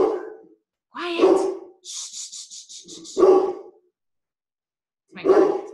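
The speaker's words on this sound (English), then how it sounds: "Sorry, my dog's going crazy." A guard dog inside a home barks at the mail carrier: a quick series of faint, distant-sounding barks between a person's nearby speech.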